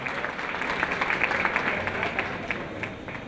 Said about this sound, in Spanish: También queremos brindarle un aplauso a la maestra Leticia Perlasca Núñez